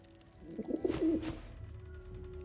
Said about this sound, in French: Pigeons are very sensitive. They can't fly straight if they're disturbed.